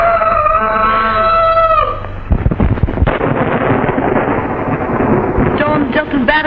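Thunder rumbles through heavy, steady rain in a storm around an old house, the deep rolls taking over after a brief stretch of voices at the start and continuing loud to the end.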